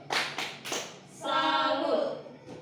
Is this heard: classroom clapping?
yes